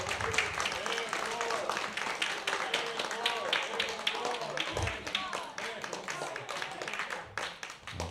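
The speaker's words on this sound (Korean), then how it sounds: "큰 박수 부탁드립니다." Audience applause at a middle school admission information session, a continuous patter of many hands clapping, fairly quiet and steady, with voices and other sounds mixed in beneath it.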